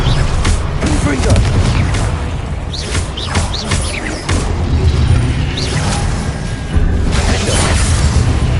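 Confringo blasting curse fired in Hogwarts Legacy, with loud booms and crackling bursts in a busy stretch of spell combat. Game effects and a voice run underneath throughout.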